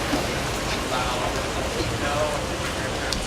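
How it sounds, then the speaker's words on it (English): Steady rain falls outdoors on a gloomy eclipse day, a dense, even hiss of drops on surfaces running throughout with faint scattered patters; a voice is faintly present beneath it. "this is too bad that it's raining"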